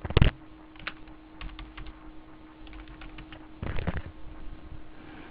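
Keys clicking on a computer keyboard during data entry in accounting software, a sharp burst at the start and another near the end, with sparse lighter taps between, close and clear over a faint steady hum.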